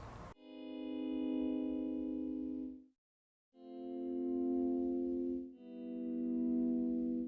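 Sustained guitar samples are played from a keyboard in three long held notes with a short silent gap, sounding smooth and slightly distorted.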